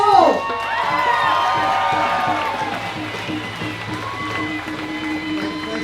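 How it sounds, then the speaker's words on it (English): Outdoor crowd at a refugee-rights march in Sydney applauding and cheering, a broad steady wash of clapping and voices with whistles and shouts mixed in, fairly loud and sustained throughout. "Can you give a big round of applause"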